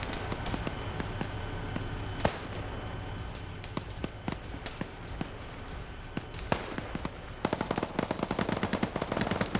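Light machine gun fire against an armored BRDM vehicle in a combat video game, sharp repeated shots and short bursts scattered through the clip, growing into denser rapid firing near the end.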